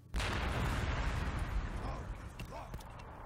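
Krak missiles fire in the Warhammer 40,000: Sanctus Reach video game, one sharp, heavy blast followed by a long rumbling roar that slowly fades, loud and close.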